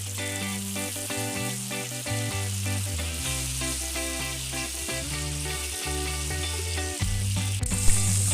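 Chili and shallots fry in a pan for quail eggs balado, with a steady sizzle under loud background music and no talking.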